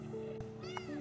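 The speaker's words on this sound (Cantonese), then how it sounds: "有隻貓啊！" A street cat in Sungai Petani, Malaysia, gives a single short meow close by amid steady background hum.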